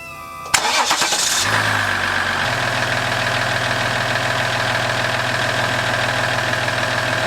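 A Ram 1500 pickup's engine cranks briefly, catches with a loud burst and settles into a steady, even idle that drones on close by with no voices.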